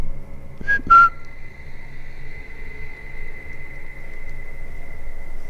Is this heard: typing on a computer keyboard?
no